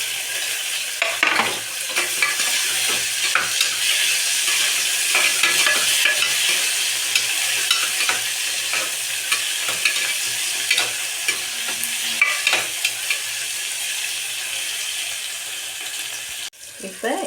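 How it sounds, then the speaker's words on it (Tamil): Steady sizzling and frying of onions, curry leaves and tomatoes sautéing in a pan, with occasional stirring scrapes, continuous and close, with no voices. "எல்லாம் போட்டு வதக்கிடுவோம்."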